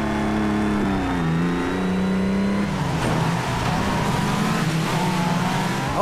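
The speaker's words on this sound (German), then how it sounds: "lässt er sich mit den bärenstarken Motoren und den dürren Reifen nämlich ganz vorzüglich driften" A race car engine in the DTM Race Driver 3 video game revs hard and holds high as the car drifts, pitch climbing and dipping with loud, steady engine roar and tire noise.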